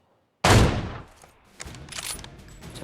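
A sudden loud burst of gunfire in the PUBG Mobile video game, with an apartment setting, followed by scattered quieter shots and game sounds that fade out over a few seconds.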